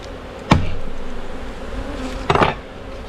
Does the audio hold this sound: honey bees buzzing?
yes